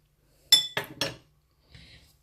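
A utensil clinking against a bowl while eggs, flour and canned tomato are mixed, three quick close taps followed by a softer scrape after a pause.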